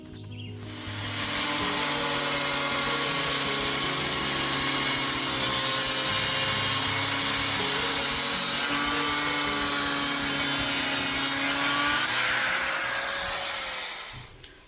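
A power tool cuts aluminium L brackets to length outdoors at an off-grid cabin build, a loud continuous whining grind that holds steady for about twelve seconds with a slight pitch shift near the end before winding down.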